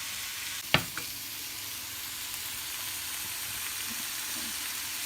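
Ground beef sizzles steadily in a hot pan for a kids' beef bowl, a soft continuous hiss with one sharp clank of a utensil near the start and no talking.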